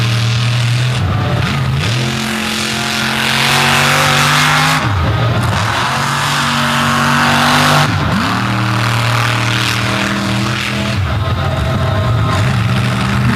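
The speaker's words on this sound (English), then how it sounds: "Working the track for everything this truck will give him right now." A monster truck races through swamp mud at a show in Naples, its engine loud and close, revving hard in repeated surges as it churns the silt, with no talk over it.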